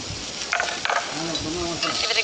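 Onion frying with ginger, garlic and chili as a spoon stirs through the pan, a continuous close sizzle with scraping strokes and a couple of sharper clatters.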